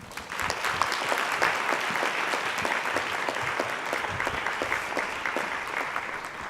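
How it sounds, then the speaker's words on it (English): Audience applause for a fashion sustainability and innovation panel, sustained loud even clapping from a sizable crowd throughout. "Please give a warm round of applause"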